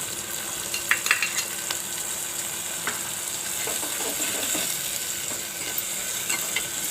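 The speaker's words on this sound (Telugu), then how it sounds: "ఇది కూడా బాగా వేపుకుందాం ఆయిల్లో" Tomato pieces fry in hot oil in a pan for chicken gravy, making a steady close sizzle and crackle with occasional stirring scrapes and no voices.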